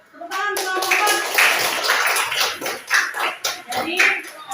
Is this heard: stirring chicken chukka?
no